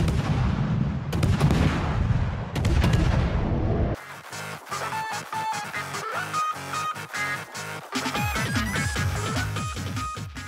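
Warship guns fire in World of Warships, a dense barrage of booming shots rolling into a rapid run of sharp, evenly spaced blasts, loud and close with no voices.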